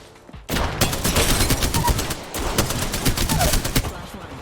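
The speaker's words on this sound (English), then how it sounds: "I'm taking shots." Gunfire rattles in an Apex Legends arena match: after a brief quiet start, dense rapid shots hammer on loud and close, easing for a moment before another heavy burst.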